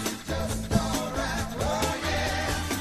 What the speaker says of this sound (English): Listen to the organ.